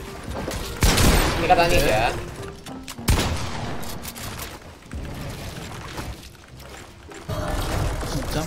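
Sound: minigun gunfire in the video game Fortnite

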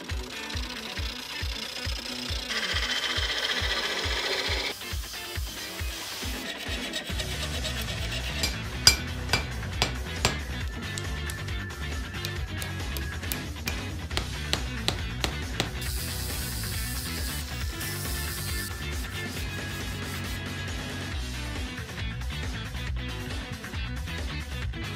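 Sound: turning a chunk of holly wood on a lathe

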